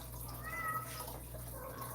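A house cat meows once, faint and in the background, over a constant low electrical hum in a quiet room.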